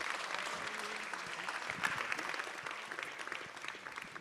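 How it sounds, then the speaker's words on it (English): A welcoming round of applause from an event audience at a David Lynch Foundation talk, steady dense clapping from a sizable crowd throughout, without speech. "Big round of applause."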